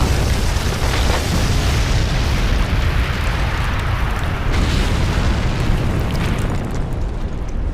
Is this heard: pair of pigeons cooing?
no